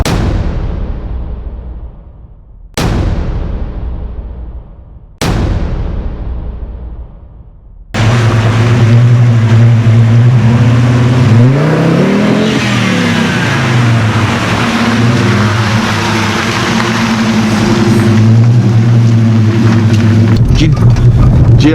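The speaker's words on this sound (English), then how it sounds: "You're taking a car on coilovers up a dirt track, Off-road like this." A VW Passat B2 lowered on coilovers drives up a rough dirt track, its engine droning steadily and loudly with shifting revs, preceded by three sharp thuds that each decay.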